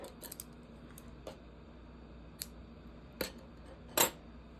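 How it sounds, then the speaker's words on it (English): Scissors snip through yarn while finishing a crocheted bunny ski mask, a few short, crisp cuts spaced irregularly over a quiet room background. "now what we're gonna do is just cut our yarn"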